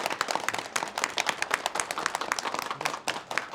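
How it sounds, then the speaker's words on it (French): Dense applause from a crowd at the official opening of a thought re-education course for Christians in Panlang, many hands clapping at once in a busy, continuous patter throughout. "Applaudissez."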